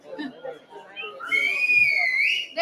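At a DC Startup Week 2023 session, a person gives one loud, sustained, slightly rising whistle to get the audience's attention. It cuts in over a low murmur of crowd talk and holds for about a second.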